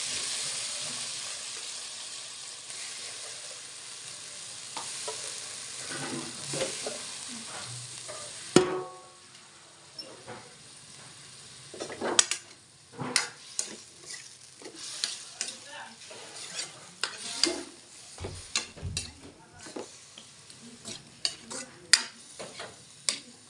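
Chicken frying in oil with garlic, onion and ginger for chicken curry, a constant hissing sizzle that grows busier with repeated stirring scrapes and clanks in the second half.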